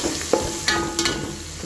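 Ingredients for a pesarattu moong dal khichdi sizzle steadily in a hot pan as they are stirred, with a few sharp scraping clicks of the spoon against the metal cutting through the continuous frying hiss.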